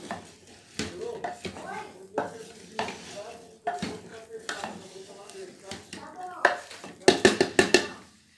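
Sarapatel being stirred in a cooking pot, with scraping and clinking of a utensil against the pot over a soft sizzle, sharper metallic knocks near the end, and a voice talking at times.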